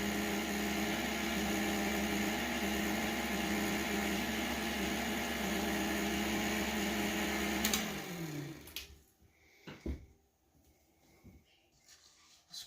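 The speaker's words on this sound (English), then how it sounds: "I'm just going to mix this just for a minute on low speed" Electric hand mixer running steadily on low speed through banana pudding made with instant pudding mix and milk, a loud continuous whir for about eight seconds that winds down and stops, followed by a few soft clinks and quiet handling.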